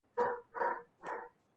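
Three separate dog barks in a row, fairly close and loud, each a short broad burst with brief gaps, heard against an otherwise quiet room during a county board meeting.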